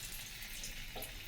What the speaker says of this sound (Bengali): চলো ভেজে নিই।